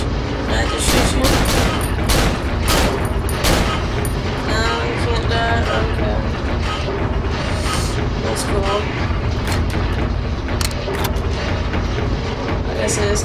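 Dense rapid gunfire and booming blasts from the horror video game Cry of Fear fill the scene continuously and loudly, with a player's voice talking over the barrage.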